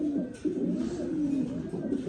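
A male Egyptian golden swift pigeon coos continuously and close, a low rolling, throaty murmur with small swells in volume.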